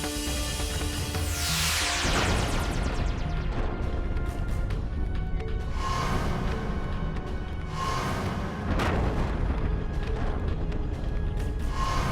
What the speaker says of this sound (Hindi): अरे ये विस्फोट कैसा?